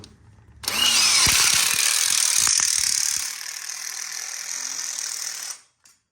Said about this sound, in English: Then we'll go ahead and screw this side as well, keeping it nice and tight with the foot technique.